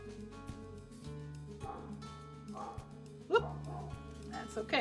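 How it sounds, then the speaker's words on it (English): A pet dog barks a few times in the background, short yips standing out over music while a person speaks briefly. "Excuse my dog bark."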